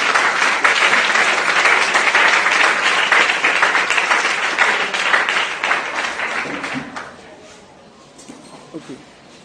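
A large audience at a church conference applauds loudly and continuously for several seconds, the clapping then thinning and fading out toward the end.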